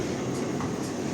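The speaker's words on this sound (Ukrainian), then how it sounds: "трамвайчик поїхав." A low continuous rumble of a tram departing along rails at night in central Lviv, with faint wheel noise and no voices.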